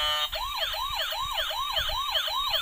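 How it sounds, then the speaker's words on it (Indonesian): A toy ambulance sounds its electronic siren, a rapid repeating wail that sweeps up and down about twice a second, loud and close with a faint rattling hum underneath. "lampunya banyak sekali dan bunyi sirine teman-teman, layaknya ambulan asli."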